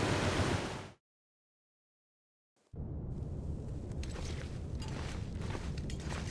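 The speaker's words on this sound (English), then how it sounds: "The waterfalls sound so strange." Waterfalls in a video game, a rushing broadband wash that cuts to total silence for nearly two seconds, then returns as a steady, dense roar.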